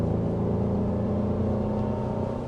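A 3.5-liter V6 engine in a 2023 Honda Pilot TrailSport SUV drones steadily from inside the cabin, a low, even hum with no talk over it.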